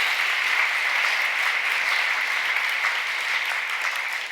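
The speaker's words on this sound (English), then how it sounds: "let's give her a round of applause" A dense, loud round of applause fills the room for Governor Janet Mills at a housing summit at Ocean Gateway in Maine. The clapping is sustained and even throughout, with no pauses.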